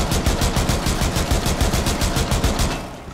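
Rapid automatic gunfire in the tactical shooter Rainbow Six Siege, a dense, loud, continuous burst of evenly spaced shots that tapers slightly at the end.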